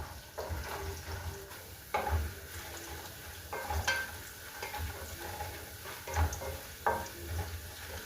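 Food sizzles and fries in a pan, with repeated scraping stirs at irregular intervals over a continuous crackling hiss. The sound is close and moderately loud, and no voices are heard.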